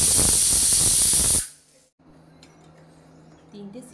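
A pressure cooker's whistle releases steam in a loud, hissing spray during the cooking of a chicken stew. The blast lasts about a second and a half, then cuts off into quiet kitchen background.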